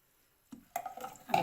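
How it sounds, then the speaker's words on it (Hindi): Cold ice water is poured into Kashmiri pink tea, a short splash and trickle starting abruptly after silence and building into a brief liquid pour, close and moderately loud. "ये बर्फ़ वाला पानी है, मैं वो ऐड कर रही हूँ।"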